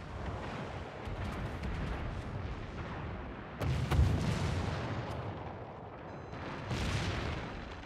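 Naval guns fire in a World of Warships sea battle: a steady rumbling barrage of low booms, with a sharper, heavier blast near the middle and another swell toward the end, all at moderate distance.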